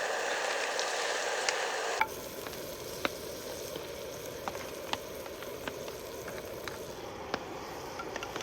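Butter melting in a camping pan over a stove, a soft steady sizzle with scattered small pops and ticks, quiet and close.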